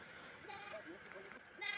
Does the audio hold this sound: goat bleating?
yes